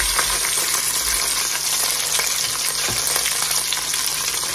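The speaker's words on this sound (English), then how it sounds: "And so we can drop our vegetables in." Vegetables hit a pan left with browned drippings from seared beef short ribs, giving a loud, continuous frying sizzle with faint stirring scrapes and small crackles, close up and without speech.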